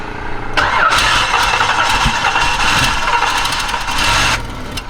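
A car engine cranks and catches, then runs rough and loud close by for several seconds before the roar drops off near the end.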